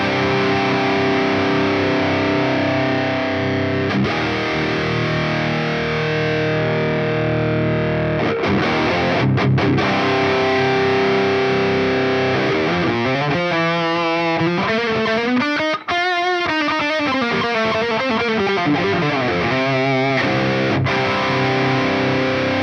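Electric guitar played through a Line 6 HX amp model, heavily distorted with effects; sustained chords and bent, wavering notes ring out loud and alone, without any talk.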